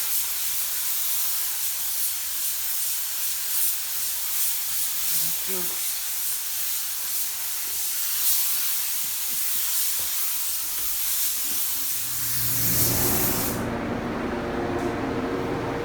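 Spray gun dusting a final coat of metallic paint onto a 2007 Mustang hood, a steady close hiss that runs throughout and cuts off near the end.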